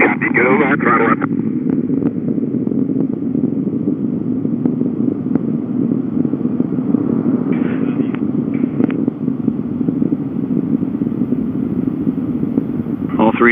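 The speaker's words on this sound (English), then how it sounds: "All three engines looking really good, back at full throttle now at liftoff" Space Shuttle Atlantis on the STS-132 launch, its three main engines at full throttle at liftoff, a steady loud broadband roar through the clip with wind buffeting on the microphone and a voice talking over it.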